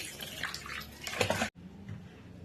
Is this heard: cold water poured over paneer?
yes